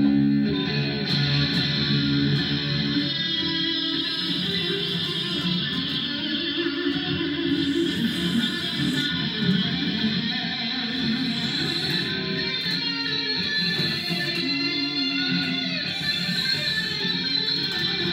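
Electric guitar played with reverb turned up high, a dense, sustained distorted wash of chords with long echoing tails, steady and loud throughout with no talking.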